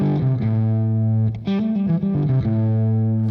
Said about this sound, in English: Here's a lick that I like to use at the end of phrases, usually to end a phrase in the pentatonic